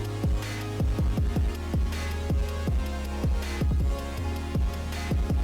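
Second-verse drums for a beat, built on a track, play together with the melody: punchy kicks with deep pitch-dropping tails and crisp snares in a steady bouncing groove over a sustained tonal backing, loud and up front with no talking.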